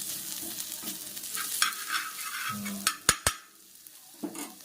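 Chicken liver sizzles in a pan as it is stirred with salt, giving a soft steady fry with scraping spoon strokes and a few sharp metallic knocks near the end, close and moderately quiet.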